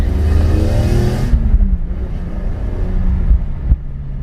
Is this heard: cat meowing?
no